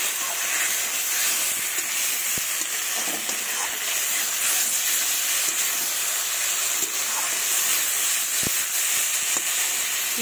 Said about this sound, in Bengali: দেখুন খুব সুন্দর কষানো হচ্ছে।